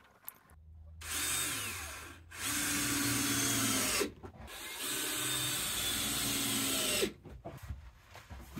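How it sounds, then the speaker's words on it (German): A cordless screwdriver drives screws into a clay brick wall in a half-timbered house, three close whirring bursts of a second or more each, separated by short quiet gaps. "weil ich dann immer in dem Moment mich da auch richtig da ran drücke an die Wand mit dem Akkuschrauber"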